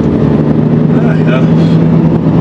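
An excavator's diesel engine drones steadily as the machine drives a short distance through a village, a loud, close, low hum with someone talking over it.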